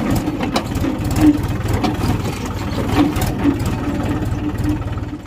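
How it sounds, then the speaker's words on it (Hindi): A Sonalika 750 DI tractor engine runs at a steady idle close by outdoors on a farm, a loud, even diesel chug with rapid rhythmic thumping and no talking over it. "ये चल रहा है जी रवित बाबू का सोनालिका"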